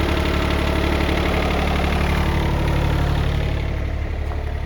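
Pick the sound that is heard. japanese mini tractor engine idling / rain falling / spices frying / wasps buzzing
japanese mini tractor engine idling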